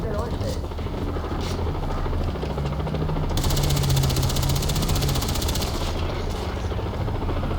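Chopping helicopter rotor noise from Far Cry 3 runs under talk, with a rapid burst of gunfire joining partway through, all sounding like game audio.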